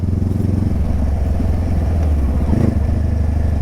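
A newly bought motorcycle rides along with a steady, close engine drone and low rumble, its pitch rising briefly as the rider accelerates through the gears, with faint clatter mixed in.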